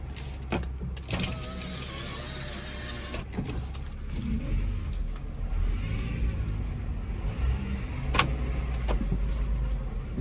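A 2006–2011 Honda Civic with a failing power steering pump circling a driveway, its engine a low steady hum with whining and creaking from the steering and a sharp knock partway through.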